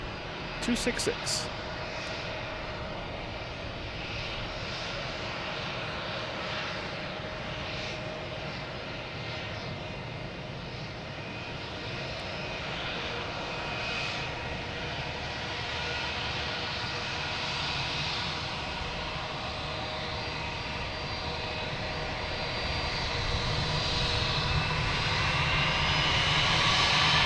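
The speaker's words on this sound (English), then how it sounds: "here's the A220, flight" An Airbus A220 jet airliner at Boston Logan Airport gives a steady, broad engine roar that swells toward the end, heard from a distance with a person talking over it throughout.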